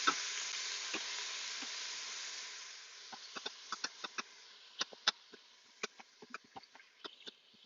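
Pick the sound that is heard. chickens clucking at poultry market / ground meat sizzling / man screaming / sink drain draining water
ground meat sizzling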